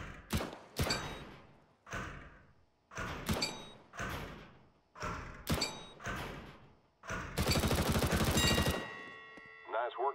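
Gunfire in a video game weapons training course: a string of sharp, punchy single shots at targets, roughly one every second, followed by a longer burst and a ringing metallic tail.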